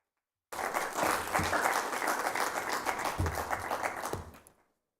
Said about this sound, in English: Let's clap again for Emmanuel.